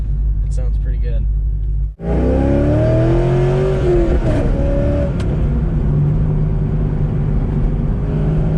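C5 Corvette fitted with new headers and an X-pipe: after a quieter opening, the V8 suddenly erupts into a loud, bellowing rev that swells and climbs in pitch, then settles into a deep, steady rumble close by.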